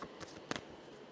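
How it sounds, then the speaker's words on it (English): A deck of angel cards is shuffled by hand, a few soft, quick riffling bursts in a quiet room. "Okay, so I'm shuffling for Miss Presh."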